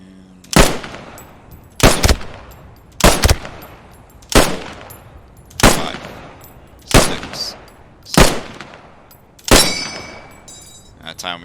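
Eight sharp rifle shots crack out at evenly spaced intervals about every 1.3 seconds during a recoil test, each loud report trailing off into a short echo, with quiet gaps between.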